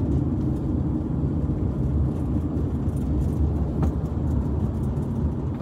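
A car travels along a road at night in Japan, its engine and tyre rumble a steady, continuous drone from inside the cabin with no pauses or talk.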